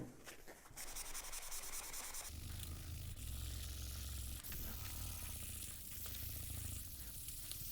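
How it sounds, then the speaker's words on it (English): A foam eraser scrubs marks off a chalkboard, making a raspy rubbing, close up, that shifts in texture through quick back-and-forth strokes and stays fairly faint overall. "let's try one more time with the foam eraser, scrubbing those spots"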